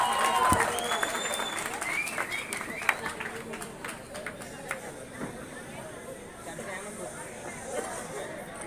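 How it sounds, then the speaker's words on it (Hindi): An audience at an awards ceremony in India applauds with scattered, moderately loud clapping that fades to lighter claps, amid crowd chatter and a speaking voice. "तो जोरदार तालियों से स्वागत कीजिए मंतोष जी का।"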